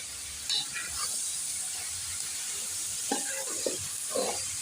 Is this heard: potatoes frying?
yes